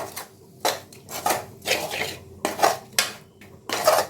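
A spoon stirring tomato and onion as they sauté in a pan for Chennai vada curry: a string of bright metallic clanks and scrapes, about eight uneven strokes, close and clear with no talking.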